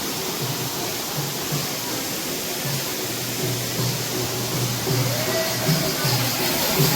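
Raika waterfall near Jateswar Dham temple, Keonjhar, a steady broadband roar of rushing water filling the whole clip at moderate level, with a faint low hum running beneath.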